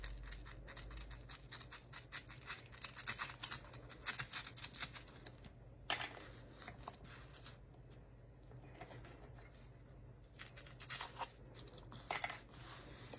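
Scissors cut through paper in short, scratchy snips and crinkles, close and quiet, with irregular pauses between cuts and no one talking.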